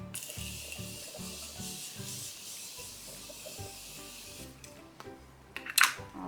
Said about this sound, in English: So close your eyes and then spray your face